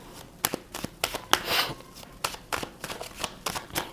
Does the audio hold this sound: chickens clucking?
no